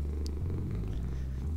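A cat purrs in the video game Lone Survivor, a steady low rumbling drone that holds unbroken and fairly loud for the whole moment, with no talking over it.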